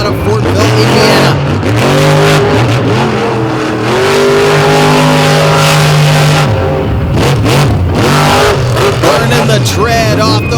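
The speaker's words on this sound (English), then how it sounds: "Burning the tread off those big 66s as he works his way around." A monster truck on big 66 tires tears around the track at a night monster truck battle at Lake Erie, its engine roaring loud and close with rising and falling revs throughout, a voice faintly present underneath.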